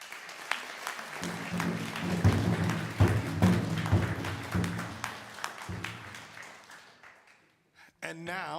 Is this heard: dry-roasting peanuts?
no